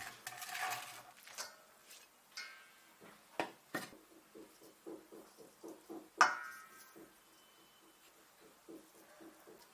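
A utensil stirs chopped cabbage with salt in a clean pot, producing a series of soft rhythmic scrapes and light clinks, close and quiet with no voices.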